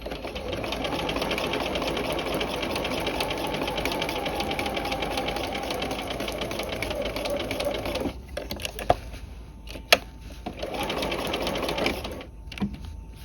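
A sewing machine stitches a tab welt pocket along the seam allowance, running steadily and close for about eight seconds, then stopping and restarting in short bursts with a couple of sharp clicks.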